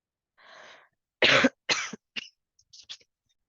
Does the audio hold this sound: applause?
no